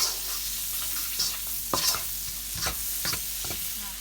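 Onions being stir-fried in a pan, a close, constant sizzle punctuated by several sharp scraping and tossing strokes of the utensil, with no speech.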